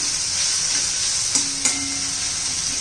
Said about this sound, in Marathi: छान असं तेलामध्ये परतून घ्यायचंय. वाटाणे पण चांगले परतले म्हणजे पटकन शिजतात.